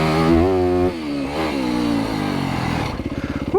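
A Yamaha YZ250FX dirt bike engine revs hard on single track, its close, loud buzzing note rising and falling through throttle changes, ending in a rapid stuttering burst of revs.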